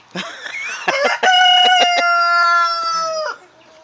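A rooster crows loudly and close on a farm, a long drawn-out cock-a-doodle-doo preceded by a few short clucks.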